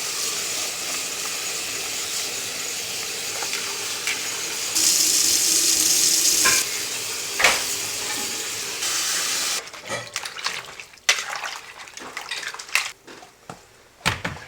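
Running tap water rinses freshly cleaned items in a home kitchen, a steady hiss of flowing water that cuts off partway, followed by scattered clatters and handling knocks.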